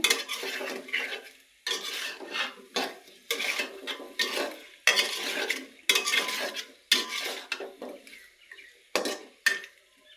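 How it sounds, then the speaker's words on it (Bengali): Taro stolons tossed and scraped with spices in a metal pan, a series of dense scraping, clattering stirs in bursts with short pauses, close and fairly loud, no voices. "ভালো করে মিক্স করে নেব মশলাগুলোর সাথে"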